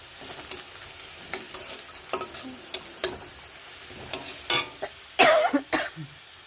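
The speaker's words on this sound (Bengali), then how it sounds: "পেঁয়াজটা একটু ভাজা ভাজা করে নিচ্ছি।" Onion frying in a pan: a soft, low sizzle broken by intermittent clicks and taps of stirring, growing busier toward the end with a few sharper scrapes.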